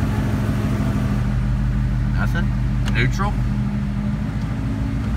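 A 2017 Mustang 5.0 V8 with a suspected engine fault runs at a steady, loud, rumbling idle, holding a constant drone while someone briefly speaks nearby.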